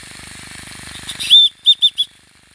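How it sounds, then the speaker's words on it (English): A survival whistle is blown, one sharp shrill blast followed by three short rapid toots, loud and close, after a stretch of low rattling background noise. "It's a whistle."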